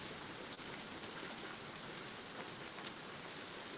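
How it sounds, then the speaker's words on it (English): Steady rain pours down during a storm, a dense, even hiss at a constant moderate level throughout, with no voices or other distinct sounds. "there's a storm out here in the midst."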